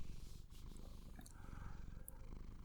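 A close, low purr rumbles continuously, soft and steady, with a few faint light clicks and rustles on top and no speech.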